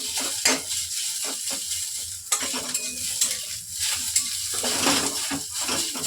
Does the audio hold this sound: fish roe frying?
yes